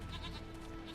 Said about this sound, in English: Hey, more goats!